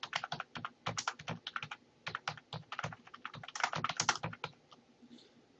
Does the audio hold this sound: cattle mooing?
no